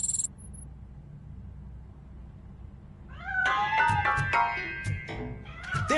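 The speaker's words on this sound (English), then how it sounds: "That cat must be hiding inside." A cat hidden inside a piano meows several times, close and clear, in the second half after a quiet stretch.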